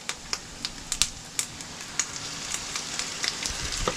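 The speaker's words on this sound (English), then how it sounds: "So fry them up in oil. Yeah, so give it a good stir around." Pieces of coconut fry in hot oil in a pan aboard a sailing boat, a steady sizzle with sharper crackles and pops as they crisp, plus occasional scraping knocks of stirring, close and alone without talk.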